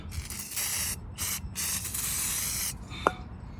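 Brake cleaner sprayed in several long hissing bursts onto Mercedes engine parts during a valve cover gasket job, close and steady with short pauses between blasts, followed by a single small clink.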